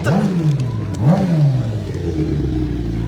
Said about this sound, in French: On entend une moto.